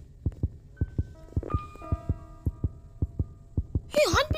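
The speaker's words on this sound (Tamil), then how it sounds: "ஏய் ஹார்ட்பீட் தொடங்குது" Heartbeat effect from the Granny horror video game, a regular thumping pulse of about a dozen beats, with tonal game sounds and a brief louder noise near the end.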